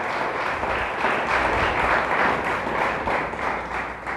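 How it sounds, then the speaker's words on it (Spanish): A Spanish-speaking church congregation gives a loud, sustained round of applause, a thick wash of many hands clapping at once without a break, with little talk over it. "¿Le dan un fuerte aplauso a Dios? Déselo fuerte, fuertes para Dios."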